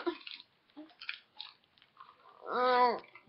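Paper being chewed and eaten during an eating challenge gives irregular, moist crunching and squishing bites, close and fairly quiet, followed by a brief voiced groan.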